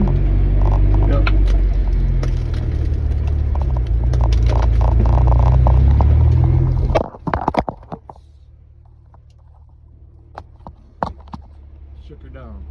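1997 Jeep Wrangler engine under throttle in 4-wheel drive, a loud deep rumbling drone for about seven seconds that cuts off abruptly, followed by faint clunks and quiet idle.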